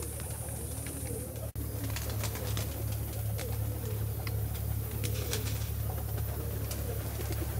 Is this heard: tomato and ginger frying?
no